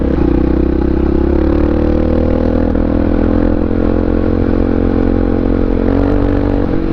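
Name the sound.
650r motorcycle riding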